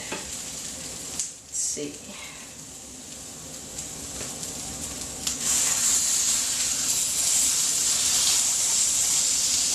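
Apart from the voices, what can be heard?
salmon searing in a pan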